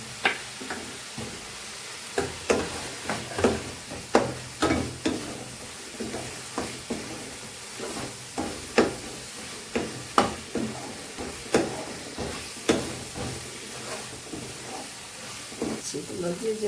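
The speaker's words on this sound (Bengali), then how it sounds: "এখন আলু ভাজিটা আমি দিয়ে দেবো, দিয়ে আর একটু কষিয়ে নেব।" Spice paste with fried potatoes sautéing in a pan for a fish egg curry, a rhythmic run of scraping stirs over a continuous sizzle, close and moderately loud, with some talk in the background.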